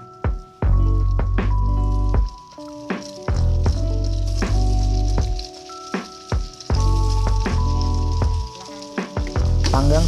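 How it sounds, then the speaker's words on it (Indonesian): Banana pieces frying in butter or margarine in a pan give a steady close sizzle, broken by several sharp knocks and scrapes as they are moved and turned. "kita masukin mentega atau margarin. Lalu kita akan memanggang pisangnya tadi sampai kecoklatan."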